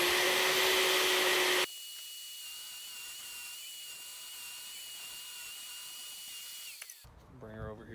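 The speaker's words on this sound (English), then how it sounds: "I'm going to sand these guys down and then put them all into place" Pine boards for truck camper drawers being sanded: a loud power-tool roar for the first second and a half, then a steadier, quieter whine with a faint high tone that runs on before stopping near the end.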